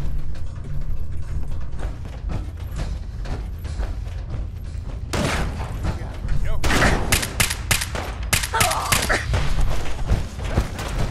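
Gunfire in Fallout 4 combat, dense volleys of shots and mechanical clatter that grow heavier and sharper partway through, with voices shouting over the fighting.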